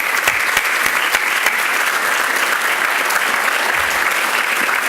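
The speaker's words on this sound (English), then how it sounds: "One more round of applause for our great Athena Award finalists." An audience at the Athena Leadership Awards applauds the award finalists, sustained and loud, with many hands clapping in a dense, continuous wash and a faint crowd murmur underneath.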